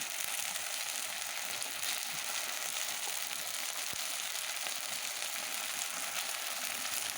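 Beef frying with ginger-garlic paste and cumin paste in a pot over a clay stove, a continuous, even hiss of sizzling oil throughout with one faint knock partway, and no talking.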